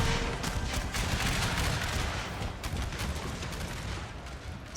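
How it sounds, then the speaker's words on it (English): Sustained massed musket gunfire in a Total War Franco-Prussian War battle, a dense, continuous crackle of overlapping volleys with no gaps, loud and unbroken throughout. "Hold the position and open fire"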